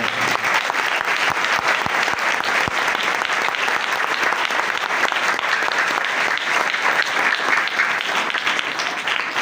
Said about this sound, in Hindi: तो इन सब का एक बार फिर हम तालियों की गूंज में